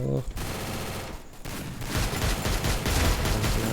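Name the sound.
gunfire in a mobile shooter video game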